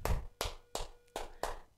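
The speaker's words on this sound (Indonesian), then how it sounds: "Tepuk semangat." Five crisp, evenly spaced claps from children doing the tepuk semangat clapping game in a sixth-grade class, quiet and close, with steady rhythm and brief silences between them.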